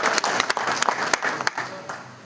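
A crowd of audience members clapping together in steady, dense applause, with sharp individual claps standing out over a continuous patter, fairly close and loud throughout.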